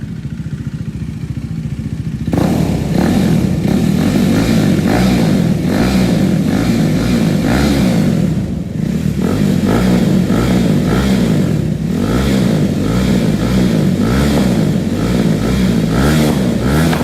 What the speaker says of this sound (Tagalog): who would have thought that a single cylinder bike with just a slip-on can sound ridiculously good as that?